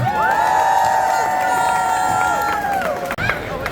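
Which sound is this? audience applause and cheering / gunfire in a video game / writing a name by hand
audience applause and cheering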